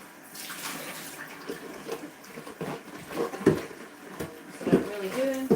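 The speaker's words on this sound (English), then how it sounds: "So I'll take that back out again. Rinse out my bowl." Water splashing and running while a bowl is rinsed out at a kitchen sink during collard cleaning, a steady wash of trickling and sloshing with brief clinks, close and fairly soft.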